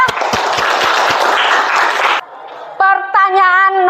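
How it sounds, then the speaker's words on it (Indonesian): Students in a classroom give a loud burst of applause for their classmates that stops abruptly after about two seconds, followed by a brief lull and a few tonal, voice-like sounds. "Ya, kita beri tepuk tangan dulu untuk teman-temannya ya."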